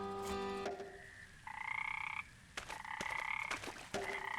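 Frogs in the video game Memoranda croak in repeated buzzy, tonal bursts, several separate calls with short gaps between them, close and alone with no talk.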